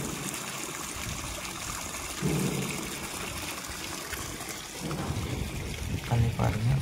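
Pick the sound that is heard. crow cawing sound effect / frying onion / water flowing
water flowing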